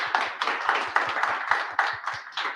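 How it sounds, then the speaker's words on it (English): Small event audience at a London tech bootcamp clapping, heard as a sparse, rhythmic patter of individual hand claps, close and fairly loud, with no voices. "So I'll give a big round of applause for all of them."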